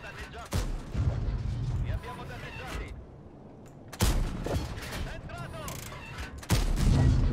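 Progetto 65 medium tank in World of Tanks unloading its full drum magazine: a string of loud, sharp cannon blasts in quick succession, each with a booming low tail, spaced about every second or two.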